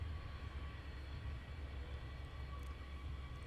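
An aircraft taxis at Luton Airport on a foggy day, a faint, distant, steady low engine rumble with a thin whine above it, alone and without talk.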